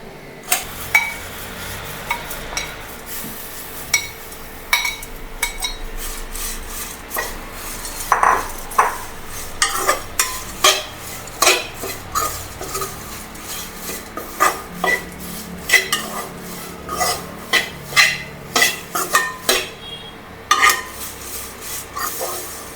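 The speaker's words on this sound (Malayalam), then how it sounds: "പാത്രം ചൂടാകട്ടെ എന്നിട്ട് നമുക്ക് അവല് വറുക്കാം" Repeated scraping and rustling of flattened rice (poha) dry-roasted and stirred in a pan, steady strokes with faint crackle, no voices.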